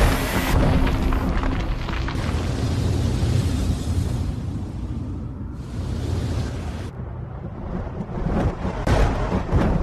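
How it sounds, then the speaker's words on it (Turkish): Heavy rolling thunder with deep booming rumbles and sharp crackling bursts, loud and continuous throughout. "O zaman neden gök gürültüsü duyuyorum?"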